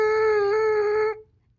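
Lips buzzing into a cup-shaped trumpet mouthpiece give a single steady pitched buzz lasting about a second, close and fairly loud, before it cuts off.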